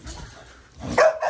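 A puppy gives a sharp, close bark near the end after a brief quiet whimper, loud and alone without talk.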